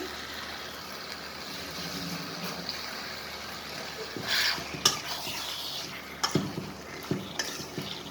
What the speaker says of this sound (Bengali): আবারও সুন্দর করে নেড়ে দিব।